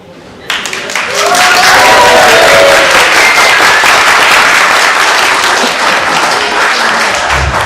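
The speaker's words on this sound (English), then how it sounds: "Can we get a bigger round of applause for the mother of the bride?" Wedding guests break into loud, sustained applause for the mother of the bride, a sudden burst of close, dense clapping and crowd noise that holds steady for several seconds, with a few voices mixed in.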